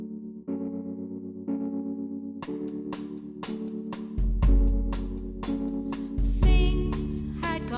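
A rough demo of a song plays: sustained distorted, chorus-effected guitar chords with a droning bass, then heavier strummed hits and deep bass thumps that build toward the end. There are no vocals yet.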